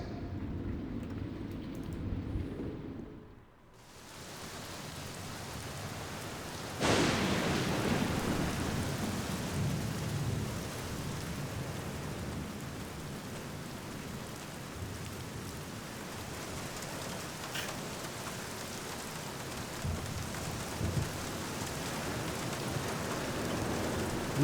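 Rain and thunder in the video game The Black Mirror, where a boiler man shovels coal outdoors: steady hissing rainfall throughout, with a sharp thunder crack after a brief lull and a long rolling rumble fading under the downpour.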